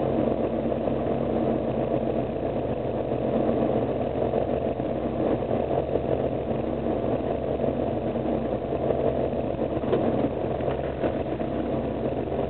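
A Pinzgauer's fuel-injected engine idles after a warm start, a steady close rumble with an even low-pitched throb and a slight roughness, holding a constant level from start to finish without revving.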